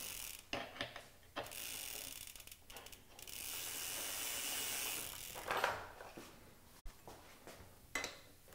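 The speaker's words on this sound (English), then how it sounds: "They've got tooling for a 6mm Allen wrench on the inside of the spindle to tighten it down" Bicycle pedals on a Spawn Cycles Rokkusuta 20-inch kids' bike are tightened with a wrench, giving a series of quiet ratcheting clicks and mechanical rattles in short bursts, close by and faint, with no talk.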